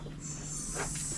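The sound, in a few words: hissing air line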